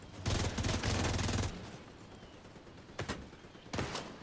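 Automatic gunfire in The Division 2, a long dense burst followed by two short separate volleys, loud and close with no talk over it.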